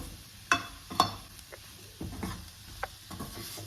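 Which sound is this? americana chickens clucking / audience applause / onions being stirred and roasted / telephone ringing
onions being stirred and roasted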